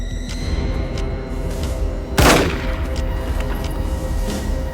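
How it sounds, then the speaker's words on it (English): Gunshots fired in a crime-thriller film scene about seven murders: one sharp, loud broadband blast stands out midway over a dense, rumbling background, with fainter possible shots later. "6 shots ring out."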